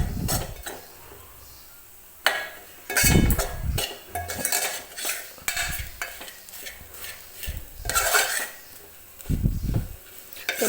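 Spices roast in a pot for a spicy mutton curry while a spoon stirs and scrapes in irregular strokes, with metallic clinks over a low sizzle, up close and without speech.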